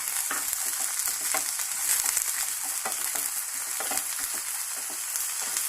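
Onion and chili frying in a little oil make a dense continuous sizzle with faint crackles and occasional soft stirring scrapes, near and steady throughout.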